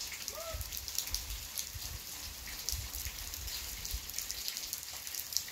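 Steady rain falling outdoors, a continuous soft hiss of drops with faint low patter underneath, no talking.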